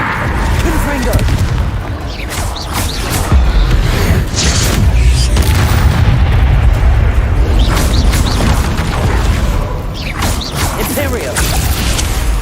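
Confringo fire spell explosions in the Hogwarts Legacy video game, loud continuous booming blasts and crashes layered with battle effects, filling the whole stretch at high volume.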